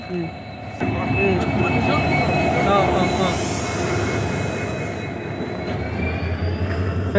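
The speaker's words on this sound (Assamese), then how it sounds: "ফাইনেলি ট্ৰেইন আহি গ'ল আমাৰ।" A passenger train arriving at a station rumbles steadily close by, its heavy rolling noise building and holding, with a faint high whine above and scattered voices underneath.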